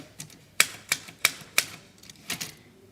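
A poem is typed on a manual typewriter at a makers' market: a short burst of sharp, close key strikes, a few evenly spaced clacks followed by a quicker pair, with no talk.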